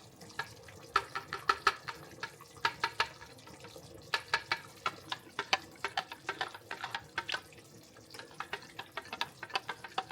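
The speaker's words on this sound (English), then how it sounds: "I'm going to stir it up so it don't be lumpy." Gravy in a pot is stirred steadily, a quick run of light wet clinks and taps from the spoon against the metal, close and fairly quiet, going on throughout.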